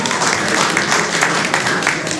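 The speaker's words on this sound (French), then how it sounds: "Et donc, vous pouvez l'applaudir." An audience at a crime-fiction author gathering applauds a cover illustrator, with continuous close, dense clapping throughout and little else audible.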